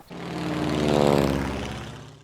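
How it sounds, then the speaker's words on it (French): Airplane returning in the Nintendo DS farm game Farm Frenzy Animal Country, a droning, truck-like engine hum that swells up to a peak and fades away again over about two seconds. "En parlant de l'avion, lorsqu'il revient, il fait désormais un bruit de camion"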